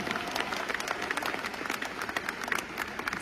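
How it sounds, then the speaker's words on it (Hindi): Audience applause at a network marketing event in India, a steady dense patter of many hands clapping at moderate distance, continuous and even throughout. "तालियां हो जाए एक बार।"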